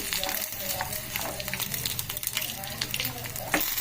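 Peanuts frying in a pan for a quick no-grind vada chutney, a steady close sizzle and crackle with occasional stirring scrapes, no talk over it.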